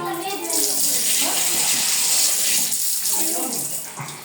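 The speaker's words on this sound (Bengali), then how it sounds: "এটা হলো বদনার কল" Water from a bidet tap in a small bathroom gushes in a loud, continuous rush while someone speaks over it, and the stream eases slightly at the end.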